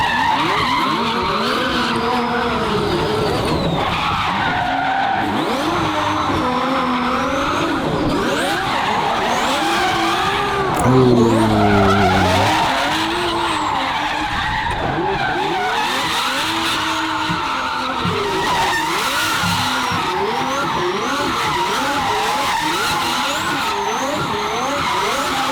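A twin-turbo Ferrari V12 car drifts with tires skidding and squealing loudly, the engine note rising and falling throughout, with a sharper burst of squeal near the middle.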